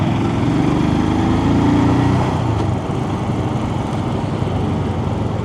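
A Royal Enfield Scram 411 motorcycle engine drones steadily on the road, its pitch falling as the rider downshifts to second, with wind rumble underneath and no talk.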